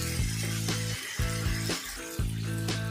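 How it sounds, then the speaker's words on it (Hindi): Chicken sautéing with masala in a pan, a continuous close sizzle broken by regular scraping strokes of a spatula roughly every half second to second. "तो इसे हम 2 मिनट तक भून लेंगे अच्छी तरह"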